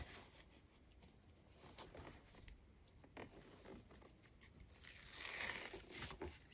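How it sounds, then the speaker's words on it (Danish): Paper strips with hardened glue peeled away from curtain fabric, giving quiet, intermittent tearing and crinkling rasps that grow louder and denser toward the end. "Så piller jeg papirstrimlerne af nu."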